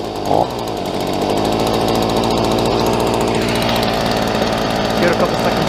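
A Stihl 27cc two-stroke engine runs at a steady, loud, high-pitched buzz close by, holding an even, raspy drone throughout with a brief bump near the start.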